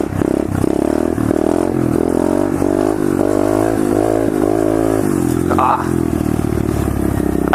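Pit bike engine revving hard and climbing in pitch during a wheelie attempt, loud and close, with a steady buzzing drone through most of the stretch and a speaking voice over it at times.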